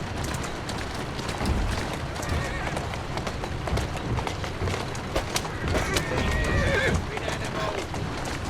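In Assassin's Creed Syndicate a horse whinnies and neighs close by over busy hoofbeats and clip-clop, with the rumble of movement and other game sounds filling the scene while voices are also heard.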